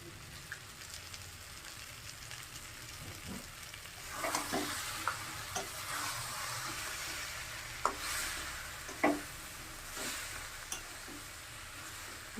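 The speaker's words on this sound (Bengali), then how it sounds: "বাঁধাকপি তো সেদ্ধ হয়ে গেছে আমি এখন মাছের মাথাটা দিয়ে দিচ্ছি" Rohu fish head going into cabbage frying in a pan, with a low steady sizzle, scattered spatters and scraping stirs, building after a few seconds with sharper clicks of a utensil against the pan.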